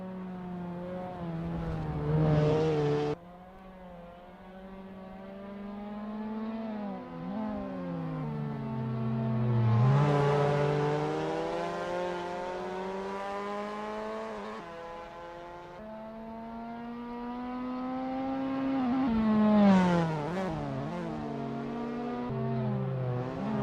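Lotus Cortina race cars lapping Cadwell Park in Assetto Corsa, engines revving up and down through the gears with rising and falling pitch over roughly twenty seconds, loud and steady with no talk.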